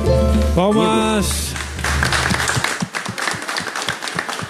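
Audience clapping at a live pagode show by two groups at a small bar, Barzinho da Nova Metrô; singing with band music gives way to a loud, steady crowd applause that continues to the end.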